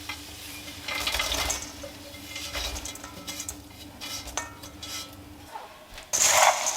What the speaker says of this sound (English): you're going to pop all of this into that bowl of puffed rice that we had roasted earlier